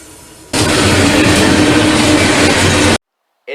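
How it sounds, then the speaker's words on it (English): Norfolk Southern loaded coal freight train NS 590, an as-needed Shire Oaks, Pennsylvania to Baltimore, Maryland run with a Pier 6 coal car, roars past loud and close for a few seconds and then cuts off abruptly. "590 is a as-needed Shire Oaks, Pennsylvania to Baltimore, Maryland loaded coal train."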